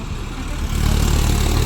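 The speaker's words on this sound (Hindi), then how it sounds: "ये आ रहा है ट्रैक्टर भर के।" A loaded tractor approaches on a road near a gurdwara, its low diesel engine rumble growing louder and closer over the short stretch, with no voices over it.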